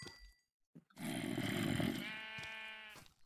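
A sheep in the video game Minecraft gives one long, close bleat after a brief quiet moment, and a faint trailing note follows it.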